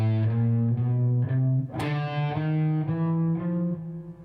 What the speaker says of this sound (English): accent with a harder pick stroke